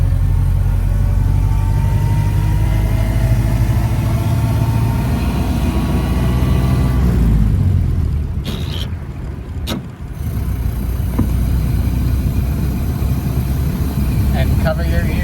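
Car engine running as the Active A's head out for a drive, a steady low hum with a louder stretch that eases off midway, then quieter road noise with a few clicks and thumps.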